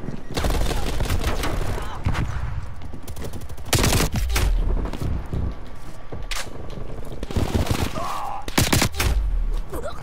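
Pistol shots in Call of Duty Cold War multiplayer with diamond-camo pistols, a series of loud, sharp cracks fired in irregular bursts and pairs over a busy game background with some voice.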